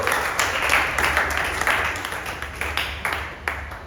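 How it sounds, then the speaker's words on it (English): Audience applause at a blockchain technology talk, a steady wash of clapping lasting the whole moment with scattered sharper claps standing out, moderately loud and without speech. "Everyone clap."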